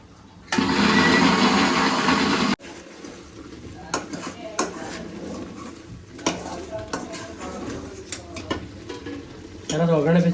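A spoon scrapes and clatters in a pan of chicken masala with homemade chilli powder. There is a loud sizzling burst at first, then irregular metallic knocks and scrapes, all up close.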